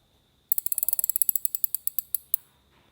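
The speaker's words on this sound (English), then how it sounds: "This thing sounds like angels are coming down and clicking your drag clicker for you." A fishing reel's drag clicker, a new Certate, ratchets out in a fast run of crisp metallic clicks that gradually spread apart and slow before stopping, close and clear over near silence.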